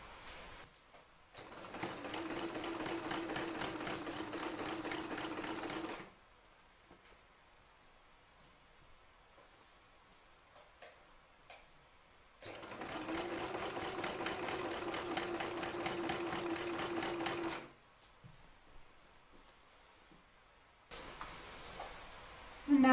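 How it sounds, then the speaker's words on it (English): A sewing machine stitching along a quilt runs in two sustained bursts of steady rapid whirring, separated by quiet pauses, with a short start at the end. "And we're now going to stitch along here and all the way along here."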